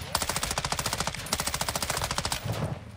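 Rapid automatic gunfire from Call of Duty Modern Warfare II in DMZ mode, loud and close, with bursts of evenly spaced shots running almost without pause before tapering off near the end.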